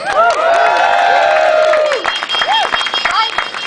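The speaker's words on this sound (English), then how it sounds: "I want to give a big round of applause for Ivana Bacik." An audience at an LGBT equality event in Ireland applauds Ivana Bacik, newly elected to the Senate, with loud sustained clapping and cheering; a tonal whistle-like sweep rises above the noise and the clapping thins out toward the end.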